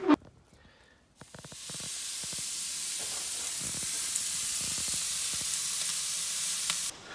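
Chicken souvlaki skewers set over apple wood charcoal burst into a loud, steady hiss and sizzle after a brief clatter of placing them, close and continuous with no talk.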